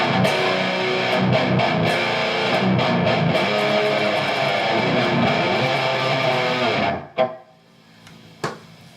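Distorted electric guitar, a custom LP Custom on the neck pickup with MXR Carbon Copy delay, plays a sustained lead passage, thick and saturated, then stops abruptly, leaving a couple of short picked notes ringing.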